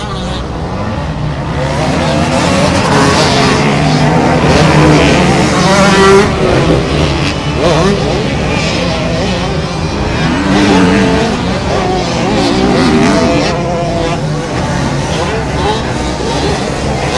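Motocross bikes racing at Pilot Mound, including a 125 two-stroke, a continuous loud buzzing engine drone with rising and falling revs over about seventeen seconds, with a commentator talking over it.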